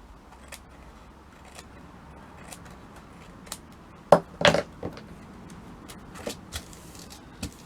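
Scissors trim the top of a paper envelope pocket, with a few sharp close-up snips clustered in the middle amid quiet handling rustles and taps.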